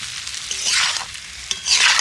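Raw green mango pieces sizzle and scrape as they are sautéed and stirred in a pan for a spicy-sour pickle, with two swelling bursts of frying hiss and sharp spatula clicks, no voices.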